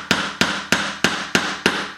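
Six evenly spaced, sharp hammer blows drive nails into a wooden board for a string art piece, each strike loud and close with a brief ringing decay.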